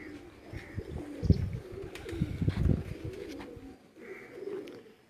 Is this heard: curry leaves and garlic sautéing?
no